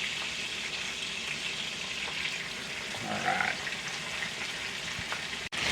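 Chopped steak sizzles and crackles steadily in a hot pan, with a brief clatter partway through and a voice speaking one short word.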